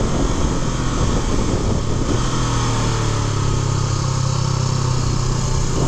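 Honda CBR500R sport motorcycle with a Euro 5 compliant parallel-twin engine, revving loudly and steadily close by, its pitch rising and holding partway through, with no talk over it.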